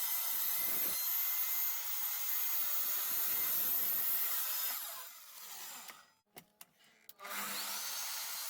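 A power tool works steadily on a painted wooden No Parking sign, cutting it down and sanding it, then the noise drops away and short intermittent bursts follow before the steady run resumes at the end.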